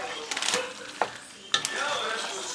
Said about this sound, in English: So I'm mixing the cheese up.